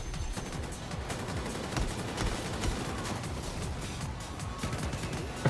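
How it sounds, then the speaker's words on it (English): An incendiary cannon firing from a tank in Battlefield, heavy booming blasts mixed into a dense, continuous roar of battle noise and explosions. "I really like this incendiary cannon."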